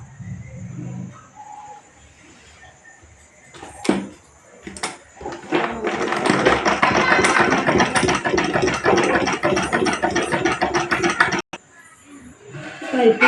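A sewing machine stitches folded blouse fabric for piping, running in a continuous, fast whirring burst for several seconds after a short spoken passage and a few handling knocks, then stopping abruptly.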